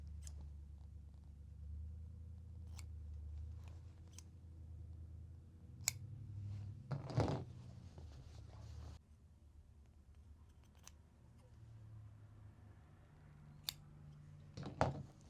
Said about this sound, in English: it may be helpful to cut a little bit of bulk off around the edges of the points